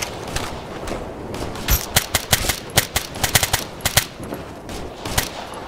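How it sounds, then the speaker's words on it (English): Bursts of automatic gunfire in Operation Flashpoint: Red River combat, sharp rapid cracks in irregular clusters over a few seconds, loud and close with no talk. "This is Charlie Team. We're getting shot at."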